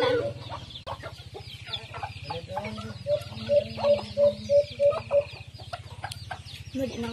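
Native chickens cluck close by in a quick series of short, evenly spaced calls over a steady low engine-like hum.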